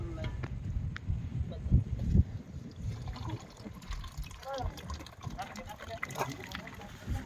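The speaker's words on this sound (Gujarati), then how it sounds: "દાળ નાખી દો" Dal lentils are tipped into a cooking pot at an outdoor village meal, making wet splashing and sloshing under people chatting nearby.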